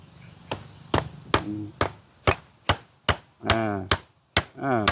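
Sharp, evenly spaced hammer blows strike a nail into wood, about a dozen hits, loud and close, with a ringing tone on several strikes.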